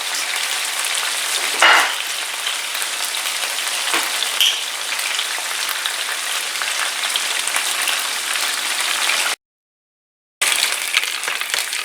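Pork chops pan frying in olive oil, a steady close crackling sizzle running throughout, with a couple of brief louder pops and a short dropout near the end.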